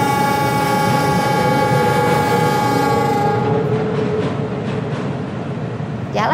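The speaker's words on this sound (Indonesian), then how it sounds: "Akhirnya keretanya mau jalan," A train on the Jakarta–Bandung line starts to depart with a loud, steady hum and a sustained tonal whine that fades as the wheels begin to roll, and a short squeal comes at the end.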